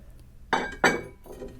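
Two sharp ceramic clinks close together, as plates knock against each other, followed by a softer third clink; bright, close and ringing.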